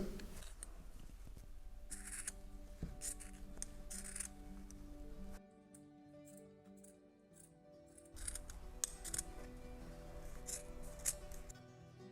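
Scissors snip through dress fabric in a quiet room, a series of close, crisp cuts with a short pause midway.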